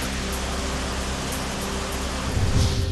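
Steady heavy rain hisses evenly throughout, a dense wash of noise that swells slightly near the end.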